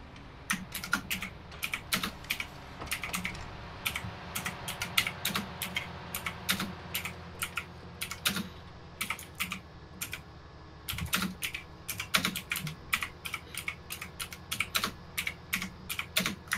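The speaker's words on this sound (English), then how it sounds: "What are you doing, Keaton, typing an essay?" Rapid typing on a computer keyboard, close and crisp, with bursts of clattering keystrokes broken by short pauses over a low background hum.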